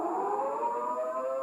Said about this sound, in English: steady blast on the civil defense sirens or other warning devices